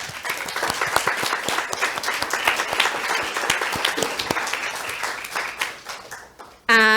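An audience at a talk event applauding: dense, steady clapping from a crowd that fades toward the end before a brief loud noise cuts in.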